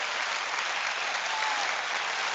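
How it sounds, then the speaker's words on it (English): A short, steady burst of applause from an audience, dense clapping at even loudness that cuts off abruptly at the end, with no talking over it. "Give a round of applause."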